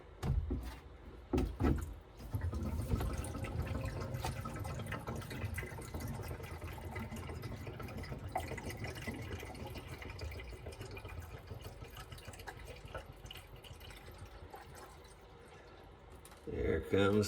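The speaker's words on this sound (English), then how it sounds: "And I'm gonna turn on the drain." Water running steadily out of an opened drain into a catch container, a continuous low splashing pour that lasts most of the time, with some clunks of handling at the start and the end.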